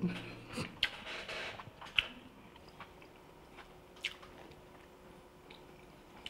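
Someone chews food close up, with soft wet squishing and a few sharper bites and crunches scattered at irregular intervals, fairly quiet and with no talking over it.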